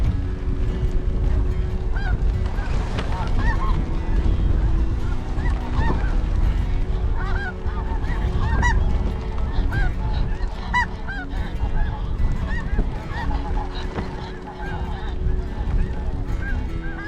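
Snow geese honk continuously during a windy hunt, a dense chorus of many overlapping calls near and far over strong rushing wind noise.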